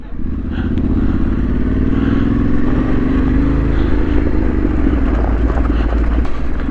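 Trail motorcycle engine running continuously on a descent during a trail ride, a steady close rumbling drone with some clatter, loud and alone without talk.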